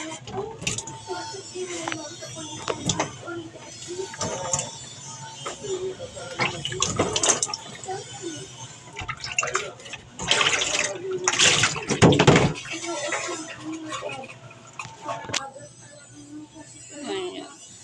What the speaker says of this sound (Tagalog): Maghilamos tayo ng tubig.